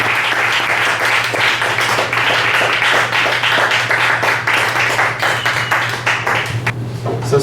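An audience at a reading series in a Danforth Avenue bistro claps warmly for the next speaker, loud, close, continuous applause with a steady hum underneath that thins slightly at the end.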